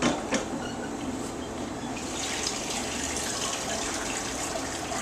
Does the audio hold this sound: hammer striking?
no